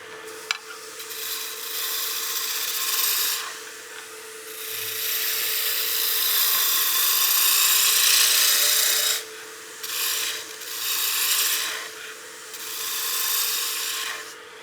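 A wood lathe turns and tapers a baseball bat while a tool cuts the spinning blank. The scraping and rasping comes close-up and fairly steady, dips in short gaps, and no one talks.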